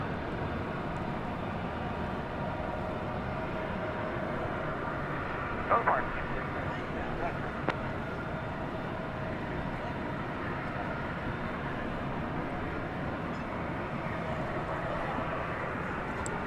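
A UPS heavy cargo jet takes off from DFW Airport at night, its engines a steady, broadband roar lasting the whole stretch, mixed with faint radio chatter.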